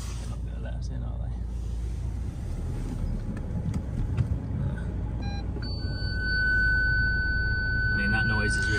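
An Alfa Romeo GT 1.9 JTDM's reversing sensor gives a steady, piercing high electronic tone partway through, sounding over a low engine rumble and road noise inside the car.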